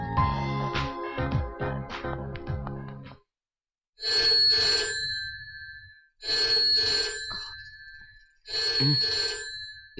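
A telephone rings at night in a Marathi film scene, three repeated electronic ring bursts with short pauses between them, following a stretch of music.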